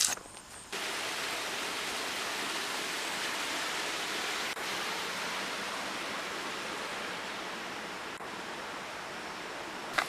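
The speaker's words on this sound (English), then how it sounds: "Cane Creek still has water in it." Flowing water of Cane Creek along a hiking trail, a steady broadband rush heard close and alone after a brief quieter start.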